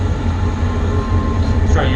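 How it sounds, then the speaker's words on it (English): Zoo train riding along the Trout River, a replica of a Uganda Express, gives a steady low rumble and rattle of cars rolling on track, close and continuous, with a voice talking over it. "The train you're currently riding on is the Victoria."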